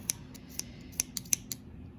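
Dull scissors snip yarn several times at uneven intervals, sharp crisp cuts close by over a quiet background.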